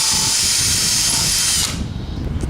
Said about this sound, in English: I'm going to drill a hole in the top of the legs, a hole in this